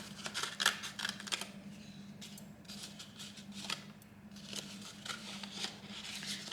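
Scissors snip repeatedly through a stiff paper plate, quick crisp cuts in irregular bursts over a faint steady hum, close by.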